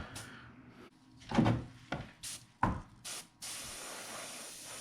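An airbrush sprays paint on a micro trout fishing bait in several short bursts of hissing spray, each a second or less, separated by quiet gaps, close by, ending in a longer steady hiss.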